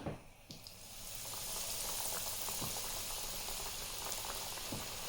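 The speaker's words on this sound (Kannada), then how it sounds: "ಇವಾಗ ಎಣ್ಣೆ ಕಾದ್ಮೇಲೆ ಸೂಶಿ ರೋಲ್ನ ಅದ್ರಲ್ಲಿ ಹಾಕೋಣ." A breadcrumb-coated tempura sushi roll deep-frying in hot oil gives a steady, dense bubbling hiss that holds at a constant level throughout, with a few soft knocks near the start and no voices.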